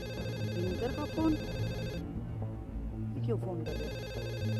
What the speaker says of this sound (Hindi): बिंदर का फोन?